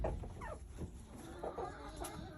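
Chickens in a backyard coop cluck softly and intermittently, a few short calls rising over a steady low background hum, with no talking.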